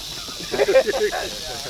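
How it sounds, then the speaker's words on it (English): A rattlesnake hisses during an Oklahoma rattlesnake hunt, a steady airy hiss running throughout with a brief burst of louder, rougher sound in the middle. "He's a good looking snake."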